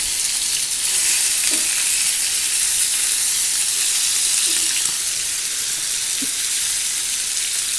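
Large tandoori chicken pieces frying in a pan after being turned: a steady, dense, close sizzle of hot oil, constant throughout with faint occasional clicks and no speech.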